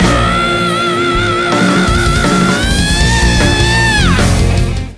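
A recorded contest scream plays loudly and continuously, a long sustained vocal wail whose pitch wavers and then swoops down before cutting off, with a rough, distorted edge.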